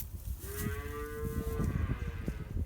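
Calves on a farm being weaned call out with a long, drawn-out moo, sustained and fairly close over steady barnyard background noise.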